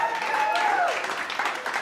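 A small group of people claps briefly and softly, with voices talking over the applause.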